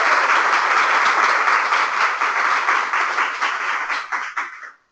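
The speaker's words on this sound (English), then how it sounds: "So please give a big round of applause and welcome to Holly Wehde." An audience at a team meeting applauds to welcome a speaker, a dense, even wash of clapping held at full strength before thinning into scattered claps and stopping abruptly.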